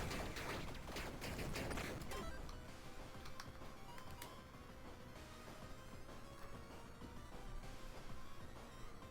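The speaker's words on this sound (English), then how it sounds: "So much noise is happening because of these missiles." Missile explosions in the video game Tiny Rogues, a dense barrage of crackling, popping blasts that is heaviest at the start and then settles into a steady, busy clatter of overlapping impacts.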